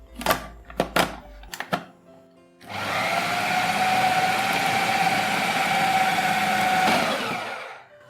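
Electric grinder running on bread slices for a kebab mixture, a steady loud whirring motor drone lasting about four seconds after a few short knocks and clatters, then winding down.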